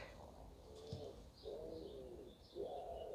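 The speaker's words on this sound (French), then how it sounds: "Je ne sais pas si vous entendez, là, ça doit être Léon le pigeon qui est venu nous voir" A pigeon coos in three soft, rolling phrases spaced about a second apart, fairly near, over low steady background noise with no talking.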